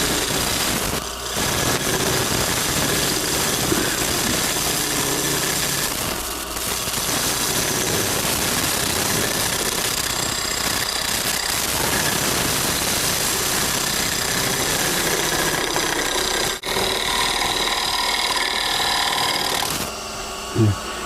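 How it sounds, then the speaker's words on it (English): A lathe runs continuously, a steady mechanical hum and whine during shear scraping of a workpiece, loud and unbroken for the whole stretch with a few brief dips and knocks. "Then you turn the lathe on"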